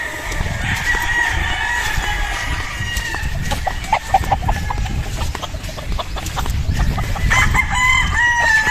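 Young rooster stags at a gamefowl farm crow repeatedly and cluck over steady farmyard noise, several birds calling close by and further off across the whole stretch.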